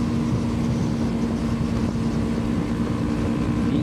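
A steady, droning motorcycle engine rumble on a ride, likely a Yamaha R25, with a constant low hum, continuous and fairly loud throughout, no breaks or talk.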